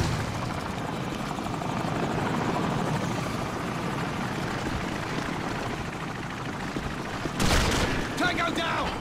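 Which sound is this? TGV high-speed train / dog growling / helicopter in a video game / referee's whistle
helicopter in a video game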